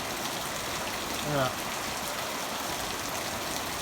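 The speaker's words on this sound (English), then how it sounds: "this heavier rain is only supposed to last for a few minutes" Heavy rain falling on a partially flooded pasture, a dense steady hiss of downpour with no gaps, and a brief muffled voice-like sound rising midway beneath it.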